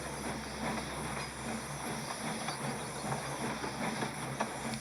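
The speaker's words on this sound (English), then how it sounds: "Thomas puffed into the station with Annie and Clarabelle" Thomas the steam engine pulls into the station with coaches Annie and Clarabelle, giving a steady rumbling, hissing rail sound with faint rhythmic chuffing and clatter, continuous and moderately loud.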